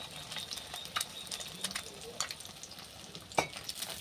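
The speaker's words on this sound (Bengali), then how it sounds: "তেল গরম করে নিয়েছি, দিচ্ছি ডিম" Duck eggs frying in hot oil in a wok, a soft steady sizzle with scattered sharp pops and spatters, fairly quiet and close.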